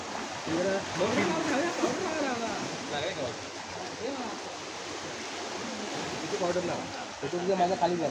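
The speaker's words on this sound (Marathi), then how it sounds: "या समुद्राच्या लाटांचा आवाज इथपर्यंत येतोय" Steady rushing wash of waves on a clean sea shore by the Shri Karhateshwar Temple fills the background while people talk nearby.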